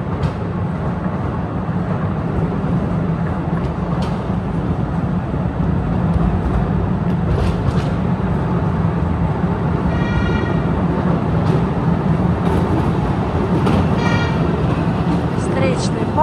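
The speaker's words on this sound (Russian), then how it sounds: "Встречный поезд." An oncoming tourist train inside Postojna Cave rumbles steadily past with a constant low roar and faint metallic clatter, loud and close throughout, with a person talking over it.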